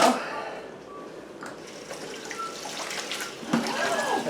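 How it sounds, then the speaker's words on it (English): Cold water runs from a kitchen tap in a soft, steady hiss with a few splashes and clatters of pickling cucumbers being rinsed, fairly quiet and close. "I'm going to put some cold water on that."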